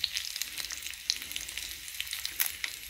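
Food browns in a hot frying pan, a steady faint sizzle with small crackling pops, heard alone without talk.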